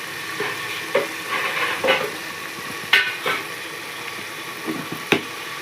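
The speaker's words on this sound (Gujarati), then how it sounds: "નાખીને પણ બધું હલાવી નાખ્યું શાક।" Green peas and potato curry stirred in a pan, a spoon scraping through the vegetables in several distinct strokes over a soft sizzle, close and fairly quiet with no talking.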